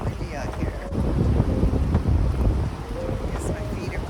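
Wind gusts outdoors beside a creek, a loud rushing roar buffeting the microphone throughout, with faint voice-like tones in the background.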